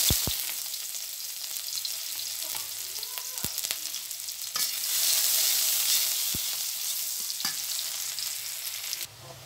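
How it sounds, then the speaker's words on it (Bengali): Oil sizzling in a kadai (wok) for spinach cooked with puti fish, a steady close hiss and crackle that swells midway, punctuated by a few sharp clinks of utensils. "কড়াইতে তেল দিয়ে দিচ্ছি।"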